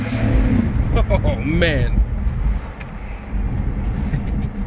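A stock 1998 Jeep Grand Cherokee 5.9 Limited engine rumbles low and steady from inside the cabin while riding, with people talking and exclaiming over it.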